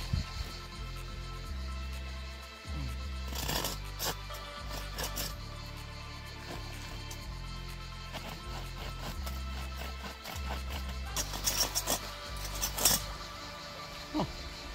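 Hand saw cutting pieces of wood, a faint scratchy rasping with rough strokes, brief pauses and a few clattering knocks in between.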